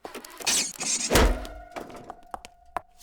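A single heavy whack on a teleprompter lands with a booming low thud, followed by a few lighter knocks and taps that fade out.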